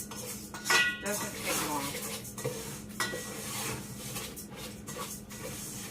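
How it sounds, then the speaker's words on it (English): Basmati rice being toasted with spices and oil in a pot, with close stirring scrapes, clinks of a utensil against the pot and a faint sizzle, under brief talk. "Just a minute or 2 with this toasting of the rice with the spices."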